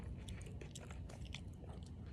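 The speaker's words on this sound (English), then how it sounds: "You hear him chewing." A man eating during a mukbang, chewing food close to the mic with soft, wet, repeated mouth sounds and small crunches, steady and continuous with no talking.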